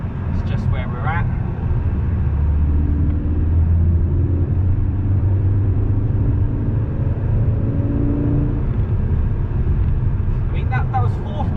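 A 2020 VW Golf R MK8 accelerating hard in fourth gear from 30 to 60, a steady, deep engine and road rumble with a slowly rising tone heard from inside the cabin, loud and continuous throughout.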